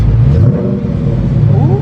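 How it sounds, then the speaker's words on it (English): A Dodge Charger engine revs and rumbles up close with popping exhaust while a voice talks over it. "let's hear the little revs, little popcorns"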